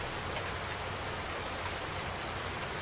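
Steady, dense rain in Farming Simulator 19, a constant close hiss of drops pattering on surfaces with no voices or other sounds.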